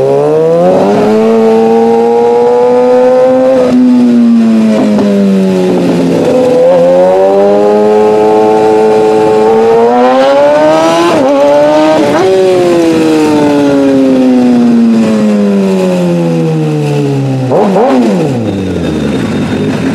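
A Kawasaki ZX6R motorcycle engine revs hard and loud up close, its pitch climbing and dropping in repeated sweeping blips and sustained high revs, a sharp falling dip near the end, with no voices.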